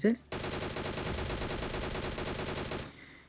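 A DP machine gun in the BGMI mobile battle game fires one sustained, loud automatic burst of about two and a half seconds, preceded by a brief voice.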